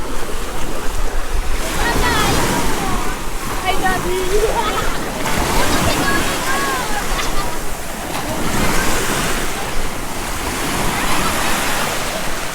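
Ocean waves wash continuously at Emerald Beach, Pasacao, Philippines, with wind buffeting the microphone, a steady rushing roar with faint voices faintly audible in the background.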